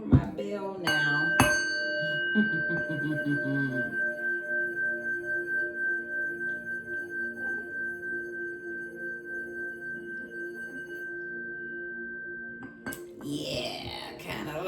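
A small bell is struck, giving a clear, sustained ringing tone that slowly pulses as it decays over several seconds, with a second strike near the end amid quiet room sound.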